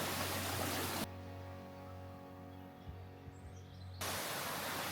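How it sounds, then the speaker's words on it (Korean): Mountain stream on the Seoraksan hiking trail, a broadband rush of flowing water that drops away briefly in the middle and then returns, steady and fairly close. "새소리와 물소리"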